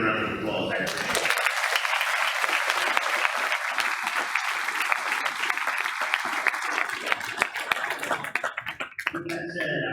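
An audience at a Veterans Day program gives American Legion members a sustained round of applause, dense steady clapping from a crowd that swells quickly and fades out near the end.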